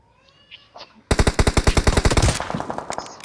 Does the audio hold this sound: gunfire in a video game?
yes